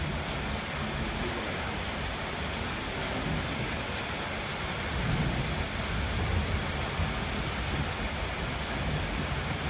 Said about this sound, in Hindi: और पिछले 1 घंटे से ऑलमोस्ट ऐसे ही बारिश हो रही है